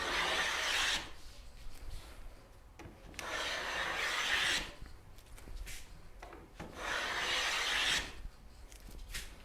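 Wooden molding is shaved by hand with a plane, three long rasping strokes close up, each a few seconds of scraping followed by a quieter pause with faint handling clicks.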